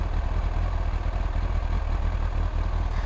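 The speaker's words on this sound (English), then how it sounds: "Put your head around the engine and have a good little listen." A steady, rumbling motorcycle engine idle on a cold start runs continuously at a constant level, close and fairly loud, with no voices.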